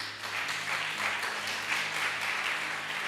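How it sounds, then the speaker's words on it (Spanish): A church congregation claps for a woman during a Spanish-language service, a short burst of steady, moderately loud group applause with no pause. "Denle un aplauso a ella."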